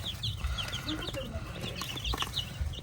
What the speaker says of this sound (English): Y'all see the chickens just nipping at the bag.